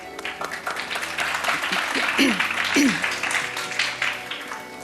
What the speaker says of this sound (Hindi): तालियां बच्चों के लिए।